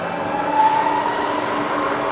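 A Bridgeport milling machine spindle turning at 60 RPM in low gear gives a steady, even mechanical hum with a faint whine, running alone and unchanging throughout.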